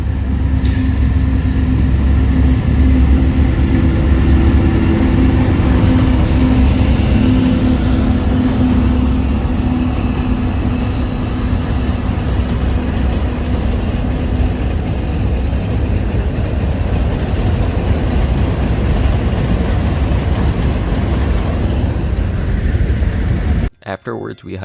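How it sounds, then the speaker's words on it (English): A train passing near the tracks on a Michigan trip, a loud continuous low rumble and rolling rail noise that holds steady for about twenty-four seconds before cutting off abruptly. "we were lucky to catch a train that was moving by"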